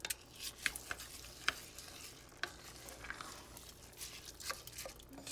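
Jasmine rice being stirred in a pan, with soft sizzling and irregular clinks and scrapes of a utensil against the pan, close and quiet.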